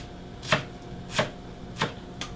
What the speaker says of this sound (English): Just chop it roughly.